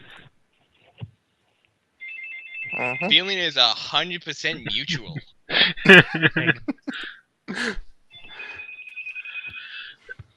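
Electronic telephone ringtones trill in repeated bursts during a tabletop role-playing session, mixed with a voice speaking over them at close range.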